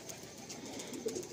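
An aged racing pigeon, ringed in 2009, coos softly and faintly, a low murmuring call that swells near the end of the short stretch.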